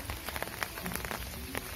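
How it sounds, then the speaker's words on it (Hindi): Rain falling on a surface near a house, a faint, steady patter of scattered drops throughout, with no talk. "बारिश हो रही है आज"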